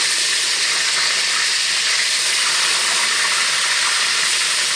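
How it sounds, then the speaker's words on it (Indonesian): Tempeh frying fast in a generous amount of hot oil, a loud, dense, continuous sizzle and hiss that stays steady and close without pauses or talk. "saya ini goreng tempenya cepet ya nih, karena ini minyaknya banyak."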